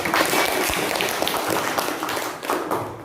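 Dense, steady applause from an audience at a university teacher-training student performance assessment in Indonesia, clapping for a student group; the crowd noise stays fairly loud and continuous for about three seconds.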